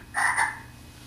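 One short, clear frog croak, a buzzy double-pulsed call heard close and alone against a low background hum.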